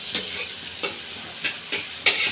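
Small fish frying with spices and vegetables, stirred with tongs: a soft steady sizzle punctuated by about six distinct scraping stir strokes at an uneven rhythm, close and moderately loud, no talking.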